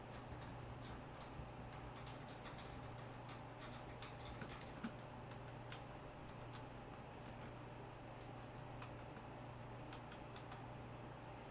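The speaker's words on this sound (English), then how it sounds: "So right now I'm just typing that in." Steady ticking keystrokes on a computer keyboard as a license key is entered during a live mining-rig build, faint and continuous over a constant low hum from running hardware.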